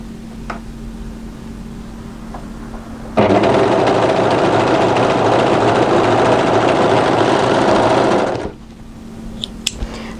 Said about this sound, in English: we're just going to run the overlocking off